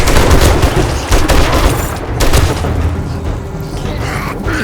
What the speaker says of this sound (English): Oh, there's the demo guy. See that? He's got a bomb strapped to him.